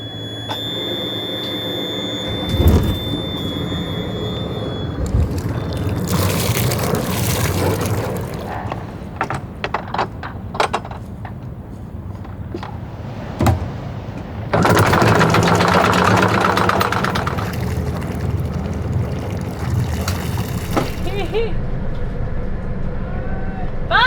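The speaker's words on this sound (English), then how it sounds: "Okay, starting the engines." Boat engines crank over and rumble to life, settling into a steady low drone with bursts of louder mechanical noise and occasional clicks and beeps throughout.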